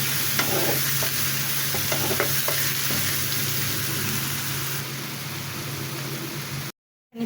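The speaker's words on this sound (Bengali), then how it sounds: "পেঁয়াজ কুচিটা আমি হালকা বাদামি রং করে ভেজে নিব" Chopped onions frying in hot oil with garam masala, a steady close sizzle with a few scraping stirs early on, ending in a brief cut to silence near the end.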